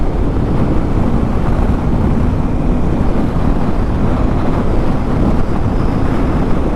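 Heavy wind buffets a rider's helmet on a motorcycle behind a small windscreen, a loud, constant low roar with fluttering turbulence and no pauses.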